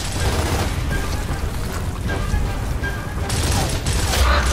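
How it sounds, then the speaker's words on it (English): Sustained gunfire and rumbling explosions from the Gears of War video game, dense and loud throughout with bursts overlapping in a continuous battle din. "He's taking some shots from up there."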